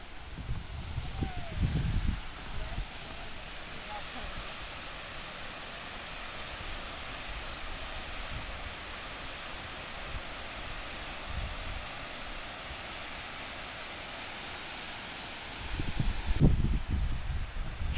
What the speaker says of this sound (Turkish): Şelaleye bir de buradan bakalım dostlar.